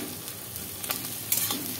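A potato, chilli and onion mixture being stirred and fried in a pan, with a steady soft sizzle and a few scraping stir strokes near the end, no voices.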